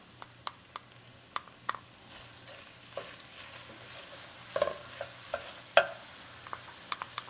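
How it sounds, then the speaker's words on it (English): Onions fry in a pan for chicken stroganoff, a low continuous sizzle punctuated by sparse clicks and scrapes of a utensil stirring, close up and without speech. "you're going to put these onions in here shortly"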